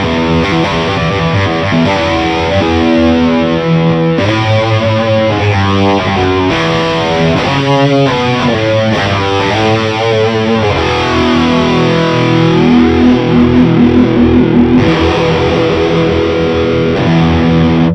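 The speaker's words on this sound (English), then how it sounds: "change the depth and speed so you can hear how the chorus works" An electric guitar plays sustained chords and riffs with a wavering, swirling chorus effect, loud and distorted, with no talking.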